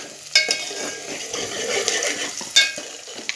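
Onion and green chillies stirred in a pan for chicken curry, a soft continuous sizzle broken by a few sharp clanks of a utensil against metal.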